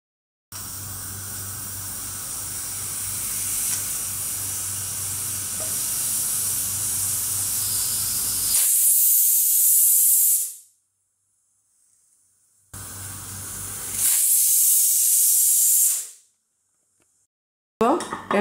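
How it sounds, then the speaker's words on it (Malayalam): A pressure cooker cooking milk payasam hisses steadily on high flame, then gives two loud, high-pitched whistling steam bursts a few seconds apart, each cutting off abruptly into near silence. "ഇനി കുക്കറിൻ്റെ മൂടി വെച്ച് കൊടുത്തതിന് ശേഷം ഹൈ ഫ്ലെയിമിൽ കറക്റ്റ് 2 വിസിലടിക്കാം."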